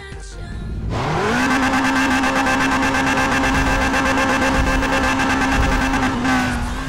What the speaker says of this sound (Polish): Dźwięk silnika nie jest najgorszy.